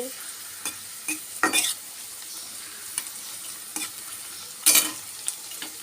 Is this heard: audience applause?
no